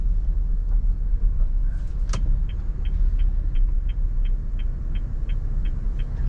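A manual car creeping slowly in first gear through a turn, clutch eased out without throttle, a steady low engine rumble close up with a regular light ticking, likely the turn signal, and one brief sharp clack.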